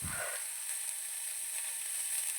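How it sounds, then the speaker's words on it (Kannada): Onion and green chilies fry in a pan for beetroot palya, giving a soft, steady, continuous sizzle after a brief low knock at the start, with no talking. "ಫ್ರೈ ಆಗುವ ತನಕ ಸ್ವಲ್ಪ ಫ್ರೈ ಆಗಲಿ ನೀರುಳ್ಳಿ ಕಾಯಿಮೆಣಸೆಲ್ಲ."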